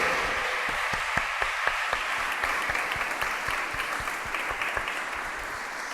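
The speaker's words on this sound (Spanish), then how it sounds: "Vamos a darle un aplauso" A church pastoral training session audience breaks into loud, dense applause, a continuous roar of many hands with a few distinct claps standing out at first, then a steady wash.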